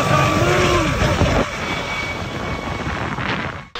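An MD 600N NOTAR helicopter on mountain supply work gives a loud, close turbine roar with a sweeping whine, steady throughout before cutting off sharply at the end.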